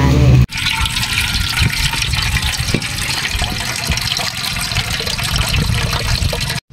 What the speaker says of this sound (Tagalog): naglagay muna tayo ng tubig sa kaserola